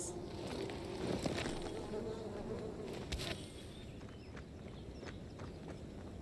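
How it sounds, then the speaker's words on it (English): Bees buzz in the Dying Light 2 video game, a moderately loud hum over game ambience with a few sharp clicks, fading somewhat after the first few seconds. "Bees!"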